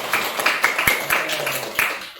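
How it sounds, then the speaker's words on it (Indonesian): A classroom of students claps hands in a quick run of sharp, fairly close claps for a couple of seconds, with faint voices underneath. "Tepuk tangan semuanya"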